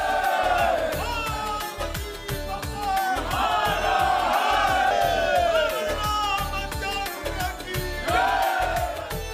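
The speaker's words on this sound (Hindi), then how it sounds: "पंडित दीनदयाल उपाध्याय जंक्शन पर भी कांवड़ियों की भीड़ दिखी।" Crowd of kanwariya pilgrims at Pandit Deen Dayal Upadhyay Junction railway station, a loud, rhythmic mass chant rising and falling in repeated waves.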